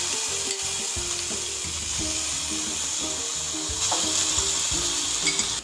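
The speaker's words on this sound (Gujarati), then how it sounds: "હવે જે આપણે બંને પેસ્ટ તૈયાર કરી હતી ને તે આપણે પેનમાં એડ કરી દઈશું." Onion and garlic paste sizzles in a pan for a homemade hair remedy while a spoon keeps it moving. The frying crackle is steady and close, with soft stirring knocks and no talking.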